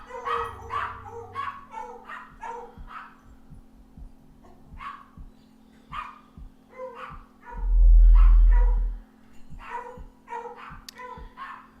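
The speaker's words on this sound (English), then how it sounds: "dogs are going nuts" Dogs in the space game Hellion bark excitedly in quick yips and woofs, mostly high and sharp, repeated across the whole stretch. A deep low rumble swells briefly midway beneath them.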